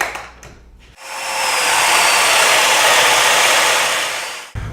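A power saw cuts through a wooden table leg, spinning up after a few light knocks into a loud, steady whine that holds for several seconds, then cuts off abruptly.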